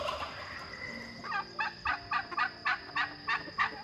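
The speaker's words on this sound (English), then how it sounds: "Sometimes the chickens freak out" Chickens squawk in a rapid series of harsh, repeated calls, fairly close, with a steady background hum.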